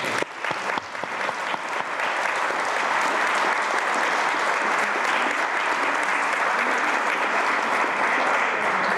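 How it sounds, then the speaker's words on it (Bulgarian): Sustained audience applause at a book premiere event, a dense, loud wash of clapping that starts with scattered claps and swells into steady continuous applause. "Тук ръкопляскането за задължително."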